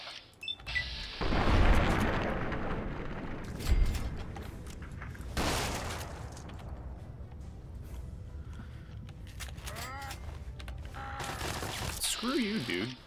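Rapid shotgun fire in the video game Fallout: New Vegas, with heavy booming blasts in quick succession over game sounds, mixed with other combat noises and brief mechanical clicks.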